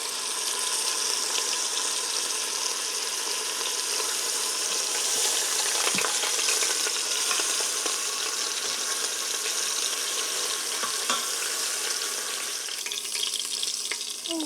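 Beef pot roast browning in an Instant Pot, a steady dense hiss of searing meat that runs unbroken and fairly loud, with a couple of faint clicks, no talking.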